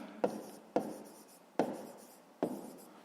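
Pen or pencil writing figures by hand on paper while working a fifth-grade maths exercise, four separate scratchy strokes in an even rhythm, each starting sharply and tapering off, close and fairly quiet with no talking.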